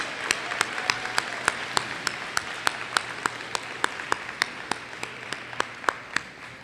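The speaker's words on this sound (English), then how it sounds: "Please give all of our award winners a round of applause." Applause for award winners at a 2021 school awards assembly: a soft crowd clatter with one close, sharp clapper striking at an even, steady beat throughout.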